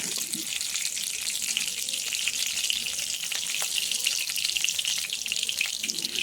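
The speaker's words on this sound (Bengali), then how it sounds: "তেলটা গরম হয়ে গেছে। আমি নিয়ে নিচ্ছি একটু গোটা জিরে। ওই 1 চামচ মতন গোটা জিরে দিয়ে দেবেন।" Whole cumin seeds sizzle and crackle in hot oil in a kadai, a steady bright frying hiss at close range that runs without a break and has no talking over it.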